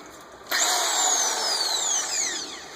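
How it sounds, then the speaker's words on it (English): A corded power drill spins up sharply and runs at a steady, high-pitched whine, close and loud, with the motor pitch sagging slightly near the end. "So I have my drill."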